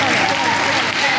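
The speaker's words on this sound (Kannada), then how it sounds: "ಚಪ್ಪಾಳೆ." A crowd at a Christmas celebration claps in a brief, dense burst of steady applause.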